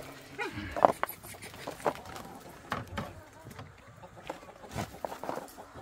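Chickens cluck intermittently nearby on a rural farm, short irregular calls scattered over quiet background rustling, with a few louder squawks.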